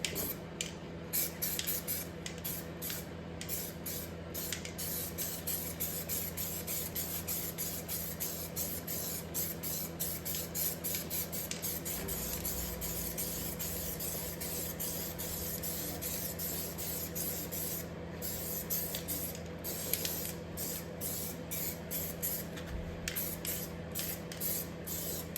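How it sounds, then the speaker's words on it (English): Black aerosol spray paint goes onto Ford Escort engine parts in a light first coat, heard as close, repeated short hissing bursts of the can over a quiet steady background hum. "With the first coat, I just wanted to spray it lightly over the parts so that the next coat has something to adhere to."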